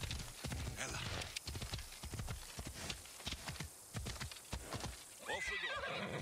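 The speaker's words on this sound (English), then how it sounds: "Make him back to the war horse he was." A war horse in the Assassin's Creed Odyssey video game, with rapid clip-clop hoofbeats galloping close up and a loud neigh at the end.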